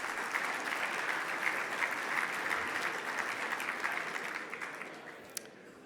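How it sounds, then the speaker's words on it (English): Sustained applause from an audience at a mayors' winter meeting plenary session, a dense steady clatter of many hands that fades slightly near the end, heard alone without speech. "One more round of applause for Mayor Bloomberg."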